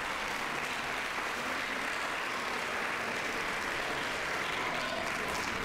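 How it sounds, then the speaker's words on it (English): An awards-ceremony audience gives steady, dense applause for physics winners at a science fair, a continuous wash of many hands clapping with no speech. "Let's give all of our physics winners another round of applause"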